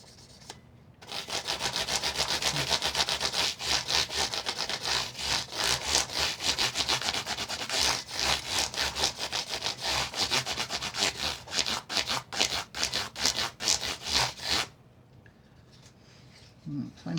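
Sandpaper rubbed rapidly back and forth over the frets of a Brian May guitar copy during a fret job, a steady close-up rasping scrub that runs for about fourteen seconds, then stops.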